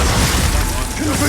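A brief, loud, crackling blast from the Confringo fire spell in the Hogwarts Legacy video game, a dense burst of noise filling the short moment.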